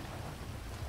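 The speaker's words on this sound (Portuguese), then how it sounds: "Olha lá, mano, chovendo, galera." Heavy rain in the video game GTA V pours in a dense, continuous rush with a low rumble underneath, faint and unbroken, no talking.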